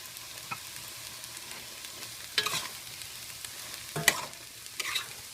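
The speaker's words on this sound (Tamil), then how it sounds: "இப்போது இந்த மேரினேட் பண்ண சிக்கனையும் இதில் போட்டுடுவோம்." Marinated chicken tipped into a pan of ginger-garlic paste for homemade chicken haleem, stirred and fried with a soft low sizzle and a few brighter scraping stirs; no talking.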